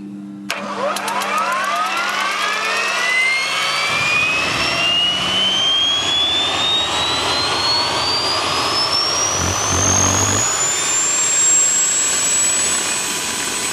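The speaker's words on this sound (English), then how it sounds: "now we'll start the engine by pressing the start button" A T62 gas turbine engine starts up from a push-button, a low hum giving way to a rising whine that climbs steadily in pitch over several seconds and settles into a loud high steady scream.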